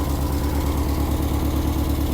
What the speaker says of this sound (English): the engine sounds horrendous